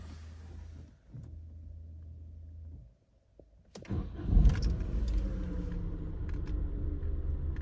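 A 2015 Peugeot 2008 with automatic transmission is started at a dealership: a quiet cabin hum, a brief pause, then the starter cranks and the engine catches, settling into a steady close idle.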